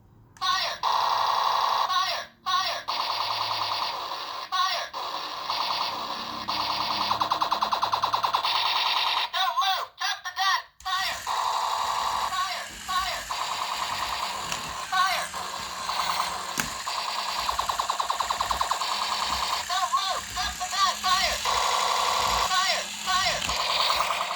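Electronic sound effects from a Fengyuan toy space fighter play as looping synthetic tones and beeps with short gaps between patterns, loud and near, while a person talks over them.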